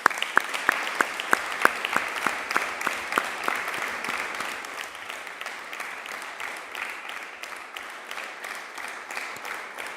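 Applause at a municipal council installation session in Niort: a room of people clapping steadily, a few sharp claps standing out early before it settles into a dense, moderately distant patter.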